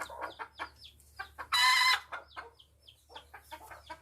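Desi poultry hens clucking in a farm shed, a run of short close clucks with one louder squawk in the middle, no talk.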